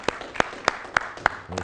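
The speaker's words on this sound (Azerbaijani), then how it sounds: "Alqışlar!" Quiz show studio audience clapping in an even, steady rhythm, about six crisp, fairly loud claps spaced roughly a third of a second apart.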